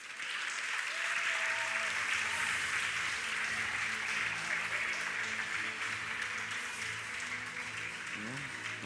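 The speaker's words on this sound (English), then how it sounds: "And now we can give them all a round of applause." Sustained applause for award winners at a university excellence awards ceremony, a steady, even wash of many hands clapping in a large hall, moderately distant and unbroken throughout.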